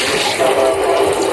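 Water runs steadily from a newly installed kitchen faucet into the sink, a continuous close hiss with no voices.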